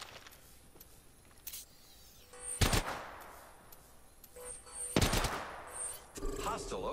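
Gunfire in an Apex Legends-style battle royale match, with two loud bursts of shots standing out against a busy backdrop of game effects and scattered quieter pops.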